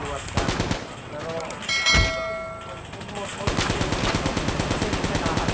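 Rapid automatic gunfire from two guns in Call of Duty Mobile, loud and close, with fast bursts of shots, a brief pause around a single sharp blast, then a steady rattling stream of rounds, while a voice talks over it.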